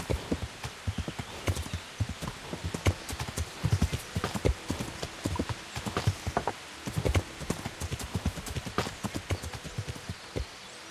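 Horse hooves in the medieval video game Kingdom Come: Deliverance, a brisk, rhythmic clip-clop of a horse moving over ground, close and clear for the whole stretch with a faint whinny-like tone at times.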